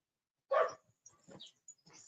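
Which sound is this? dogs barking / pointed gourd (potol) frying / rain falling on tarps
dogs barking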